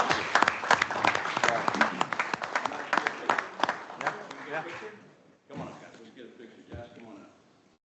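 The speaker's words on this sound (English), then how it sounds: "round of applause for those guys" Attendees at a regular monthly board meeting give a round of applause, brisk clapping with voices for about five seconds before it stops, then someone talks with a few knocks and shuffles.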